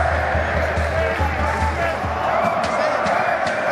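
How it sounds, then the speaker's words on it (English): A roaring stadium crowd in the NCAA 14 college football game, Illinois against Iowa at War Memorial Stadium, with fans chanting; a dense, steady wall of cheering fills the whole stretch with a low rhythmic pulse underneath. "And you can hear the crowd here. They are fired up."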